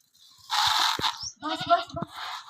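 A goat fed oilcake at a village livestock offering bleats in a couple of short, nasal calls at moderate distance, with someone talking nearby and some rustling in between.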